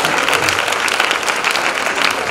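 Church congregation clapping hands together in steady, dense applause that fills the whole stretch at a constant loud level, with no clear speech over it.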